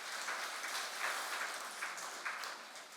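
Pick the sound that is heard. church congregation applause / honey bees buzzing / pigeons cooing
church congregation applause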